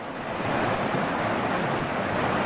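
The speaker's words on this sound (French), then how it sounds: "Au bord du torrent, plus précisément." Mountain torrent rushing past close by, a loud, dense, continuous roar of white water filling the whole stretch without pause.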